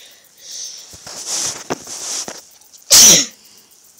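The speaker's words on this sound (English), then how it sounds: "I had to sneeze." A single sharp, loud sneeze bursts out up close after a few seconds of quiet breathing and rustling.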